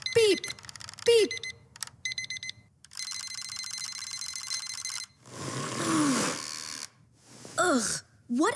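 An alarm clock rings in repeated bursts of bright electronic tones, close and loud, broken by short gaps and a few brief vocal sounds.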